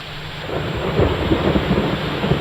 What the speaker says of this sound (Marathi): बुलढाणा जिल्ह्यात गेले 2 ते 3 दिवसांपासून जोरदार पाऊस सुरू आहे